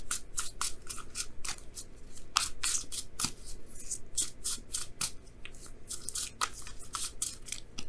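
Tarot cards being pulled and shuffled by hand, a quick run of close, crisp riffling and snapping card flicks in irregular bursts, with no talking.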